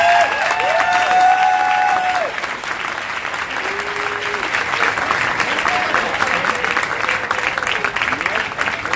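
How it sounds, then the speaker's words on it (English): Audience applause at a kickoff talk, a dense steady clapping from a large crowd that stays loud for the whole stretch. A few whistles rise over it near the start. "I just want y'all to give a big round of applause for Katti Power."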